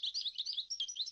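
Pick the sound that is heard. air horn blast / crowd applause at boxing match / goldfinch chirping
goldfinch chirping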